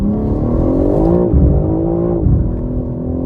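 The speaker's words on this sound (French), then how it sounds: "si je chope un petit peu de gravette ou autre et j'accélère à fond, le patinage va s'instaurer" A BMW M3 Touring wagon with 530 hp accelerates flat out on gravel with wheelspin, its engine droning loud and close in a steady rising tone with brief dips, without speech.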